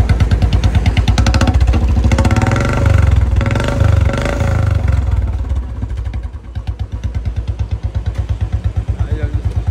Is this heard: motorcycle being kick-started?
yes